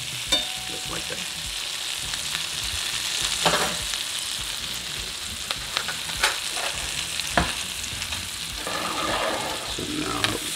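Steak frying in melting butter with thyme, a steady close sizzle with intermittent crackles and spoon-basting clatter throughout, no talk.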